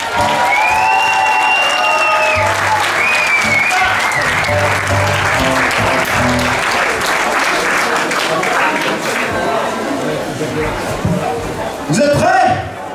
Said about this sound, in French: Un tonnerre d'applaudissements pour Thierry